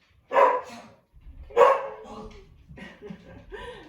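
Close, loud barks from a pet dog indoors during a home yoga class: two strong barks a second apart, followed by softer yips and barking.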